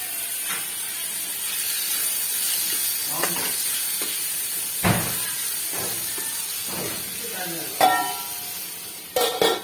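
Tomato sizzling and hissing in a hot pan of frying masala for prawn curry, a steady close crackle with a few stirring scrapes and clatters, no talk.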